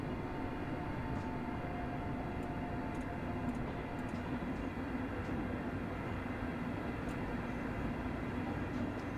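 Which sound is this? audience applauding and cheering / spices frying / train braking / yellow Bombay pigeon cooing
train braking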